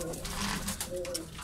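Pigeons in a Kocaeli pigeon shop make soft, low cooing calls over a steady, busy room ambience, with several overlapping birds close by.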